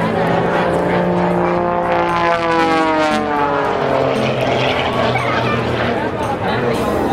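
A propeller airplane engine drones steadily and loudly throughout, with shifting tonal bands like a plane passing overhead at an air show while voices talk underneath.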